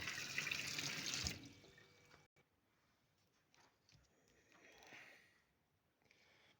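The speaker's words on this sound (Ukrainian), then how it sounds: "Виключаю воду." Water runs loudly from a tap into a sink for about a second and a half, then is shut off, leaving faint clicks, handling noises and low room sound.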